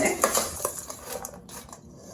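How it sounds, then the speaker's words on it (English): Onion powder, paprika and other spices are stirred in a bowl, with quick light clinks and scrapes of a utensil against the dish in a brief close burst. "I'm going to give these a little bit of a mix."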